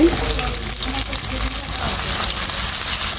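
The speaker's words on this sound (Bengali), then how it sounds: "আমি এখানে পেঁয়াজ কুচি মরিচ কুচি দিয়ে দিচ্ছি" Chopped onion and chili drop into hot soybean oil in a wok, producing a loud, close, continuous frying sizzle with a faint stir.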